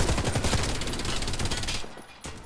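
Shotgun blasts in the Warface video game, a rapid burst of loud overlapping shots that fades out toward the end, with a couple of fainter reports after.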